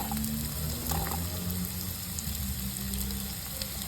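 Chopped onions hit hot oil in a nonstick pan, giving a steady, close, loud sizzle and crackle that holds throughout with no talking.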